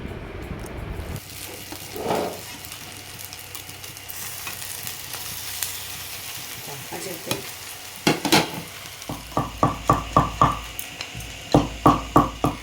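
Chowmein noodles fry in a hot pan with carrots, beans and capsicum, sizzling steadily close up while a spatula stirs and tosses, ending in a run of rhythmic scraping strokes.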